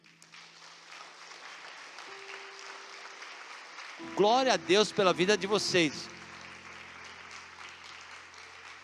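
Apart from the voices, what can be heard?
congregation applause for church deacons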